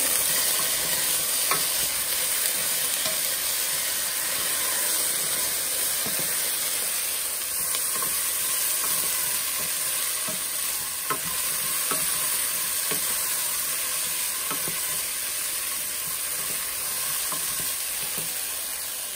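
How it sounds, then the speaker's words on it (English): Potatoes fry in oil in a pan with a steady, loud, close sizzle and hiss that runs on without a break. Faint scrapes of stirring come through now and then. "So I just added my potatoes in there, and we're just gonna let them cook a little bit."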